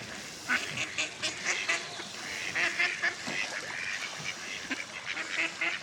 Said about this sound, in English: Beautiful duck pond and a little fountain.